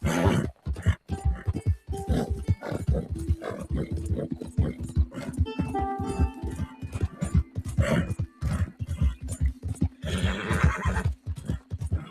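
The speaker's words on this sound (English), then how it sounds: "I can't believe I've never seen one of these horses in real life." Horses in Red Dead Redemption 2 whinny and neigh repeatedly over a steady, rhythmic clip-clop of hooves, the calls rising clearly above the ongoing trotting.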